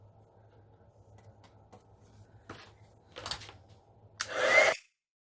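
A heat embossing tool is used over water-based dye ink and embossing powder on paper. A faint hum and a few soft clicks lead into a short, loud blowing whoosh near the end.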